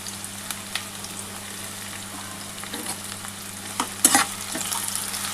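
Three onions fry in a pan for mutton kosha, giving a soft, continuous sizzle with scattered crackles and a few stirring scrapes over a low electrical hum.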